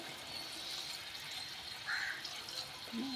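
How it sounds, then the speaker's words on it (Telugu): Water poured into a pot of thick seeds that are still boiling, a faint trickle and splash over a steady background hiss, with a brief bubbling gurgle partway through. "కొద్దిగా నీళ్లు పోస్తాము, మళ్ళీ కొంచెం వాటర్ వేస్తాము"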